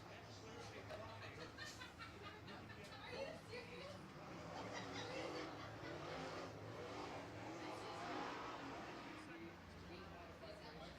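Late model race cars roar around the track during a feature race, a steady dense wash of engine noise with rising and falling revs and voices chattering throughout.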